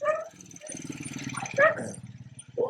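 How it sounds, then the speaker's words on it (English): Several neighborhood dogs in the Philippines bark and yip in overlapping bursts, some near and loud, others farther off, with a voice faintly underneath. "Listen to all the dogs in the neighborhood."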